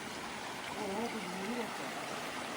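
A river in a Carpathian forest rushes and gurgles in a steady, close wash of water noise, with a person's voice briefly heard over it.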